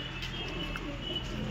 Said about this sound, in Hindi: इस वाली लोफ्ट में ये वाले मद्रासी कबूतर हैं